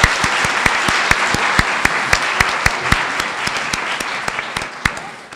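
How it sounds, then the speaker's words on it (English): Audience applause at the end of a round at a division spelling bee, a lively crowd clapping close by, with a few individual sharp hand claps standing out in a rapid, uneven rhythm over the dense patter. "hold your applause till the end of each round"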